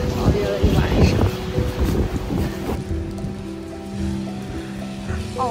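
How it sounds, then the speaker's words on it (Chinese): Strong wind and rain buffet a car driving along a road in Iceland, loud gusty rumble and microphone wind noise dominating, with people talking underneath and a steady engine drone. "我们走在冰岛的路上，又下雨又刮大风"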